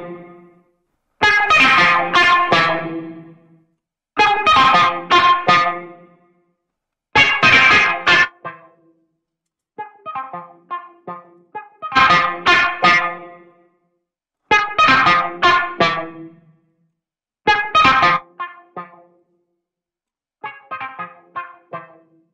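Beat run through Guitar Rig 7 effects, heavily distorted and effected, playing in loud phrased bursts separated by short silences, with quieter, sparser passages between, no talking.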